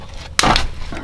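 A transmission drain plug on a 10th-gen Honda Civic Si breaks loose under a wrench with one sharp crack, set against quiet background hum.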